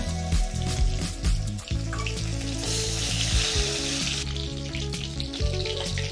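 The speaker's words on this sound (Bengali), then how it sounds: "বাকি মাছগুলো একইভাবে ভেজে নেব।" Another batch of salt-and-turmeric coated bhola fish crackles in hot oil, a continuous near sizzle over a recurring low rhythmic backdrop.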